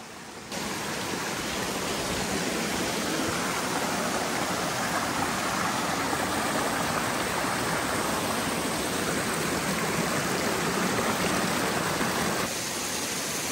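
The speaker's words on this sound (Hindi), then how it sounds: "अरे भाई साहब झरने के अंदर से जाना पड़ेगा।" A jungle waterfall in Nagaland pours in a loud, steady, broadband rush of falling water heard up close, unbroken for the whole stretch.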